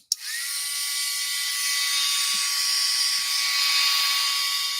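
An embossing heat tool switches on with a click and spins up to a steady, high whining blow close by, melting embossing powder on a card, with a couple of faint taps beneath the constant drone.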